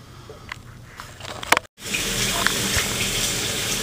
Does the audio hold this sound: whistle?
no